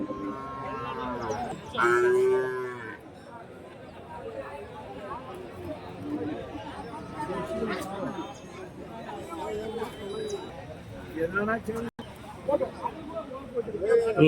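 Cattle at the Orappam cattle market in Krishnagiri district, Tamil Nadu, give a loud moo near the start, followed by steady crowd chatter and market hubbub with people talking throughout.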